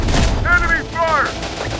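Gunfire during a firefight in the Terminator: Dark Fate - Defiance video game, sustained bursts rumbling beneath shouted voices calling out enemy positions.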